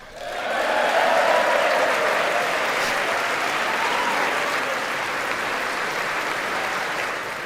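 Members of Congress in the House chamber applaud the First Lady at the State of the Union, a loud sustained wash of clapping from a large crowd that swells quickly and holds steady throughout.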